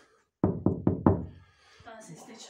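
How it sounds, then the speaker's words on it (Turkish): Four quick knocks on a plasterboard drywall wall inside a house, close and hollow-sounding, evenly spaced, followed by faint room noise and a brief voice. "Alçıpan sesi vardı. Alçıpan var."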